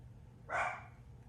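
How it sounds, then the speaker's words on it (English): A single bark from a young dog at home, short and moderately distant over a low background hum. "I'm sorry about my dogs."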